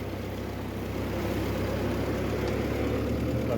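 Engine of a 1950 Ford 8N tractor running in first gear, a steady low rumbling drone that holds at an even level, close and loud throughout, with no talking.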